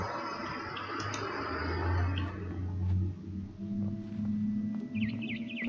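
A barn swallow outside a window in What Remains of Edith Finch gives a short burst of quick, wavering chirps near the end, faint and high above a low, rumbling ambient drone.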